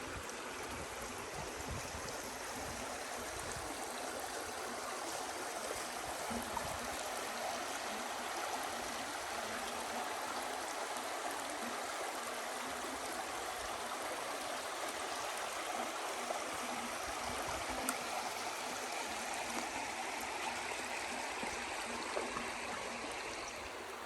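A backpacking creek rushes and gurgles continuously over rocks, a steady broadband wash of flowing water heard close by with no voices.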